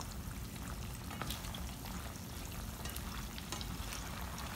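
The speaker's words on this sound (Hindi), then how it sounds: "ये देखें अभी ये फ्राई हो रहे हैं" Pieces of fish frying in hot oil in a pan, giving a steady, dense crackling sizzle that continues without a break and without voices.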